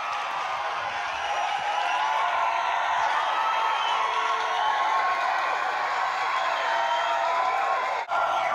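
Baseball crowd at a March game roaring steadily after a double play, a dense, continuous wash of cheering and noise that holds at a loud, even level throughout with no clear talk over it.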